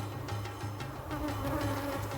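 Honey bees buzzing around an open hive with old frames and sealed honey, a dense continuous drone of many insects close by, fairly quiet and steady with no talking.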